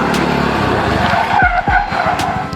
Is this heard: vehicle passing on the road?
yes